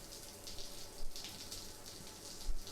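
Shower water running steadily in the video game Death Stranding, a soft hissing spray with small surges, fairly quiet and heard alone.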